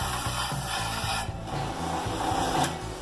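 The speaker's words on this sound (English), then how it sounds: "we're putting a little bevel on each edge and grind off the end just to take the sharpness off" A grinder bevels and grinds steel edges for a brake drum forge, a dense, steady rasping whir with a pulsing low chatter, close and continuous throughout.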